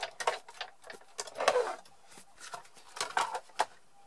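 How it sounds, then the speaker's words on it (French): A paper card project with a cutting plate fed through a die-cutting machine, giving a run of dry clicks and ticking mechanical ratchets at an uneven pace, close and fairly loud, with no talk. "repasser le projet dans la machine"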